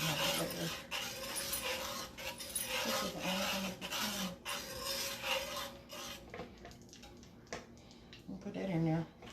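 Hard Parmesan cheese is grated in a kitchen while making shrimp Alfredo, a close rasping scrape that comes in bursts, with people talking over and between the strokes.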